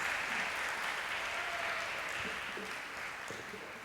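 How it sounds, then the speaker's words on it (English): Audience applauding steadily at a Diwali celebration stage show after a performance, a dense, even wash of clapping that holds at the same loudness throughout with no voices over it. "Another round of applause,"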